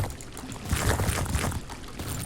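Water flows and splashes steadily through a stone-brick sewer channel in Minecraft, a soft continuous pouring rush that swells briefly midway.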